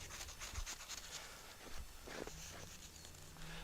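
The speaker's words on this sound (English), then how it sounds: "Carve off some of those angles. Those little sawing motions." Steady gritty scraping and rubbing of snow being carved in small sawing motions, a close back-and-forth sawing texture that continues without pause, fairly quiet.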